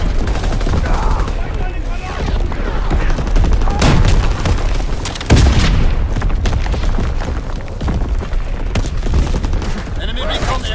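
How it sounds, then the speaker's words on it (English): Continuous, dense battlefield din from Call of Duty WWII multiplayer: repeated artillery booms and rattling gunfire overlap throughout with no letup, loud and close, with a heavy thud midway and game voice callouts mixed in. "Incoming enemy artillery!"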